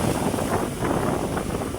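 Big Pacific Ocean waves hit a small fishing boat in rough weather, a steady roar of rushing water and buffeting wind close to the microphone.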